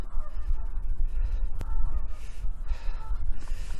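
Canada geese honking on a beach, a few scattered calls set against steady wind and surf noise, moderately loud throughout.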